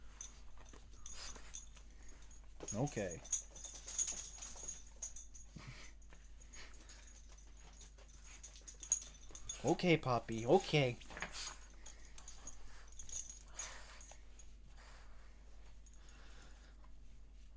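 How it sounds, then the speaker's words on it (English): A puppy lets out two short bursts of high, wavering whimpers several seconds apart, fairly close, while a person talks softly to it over quiet room noise. "I hear the puppy coming."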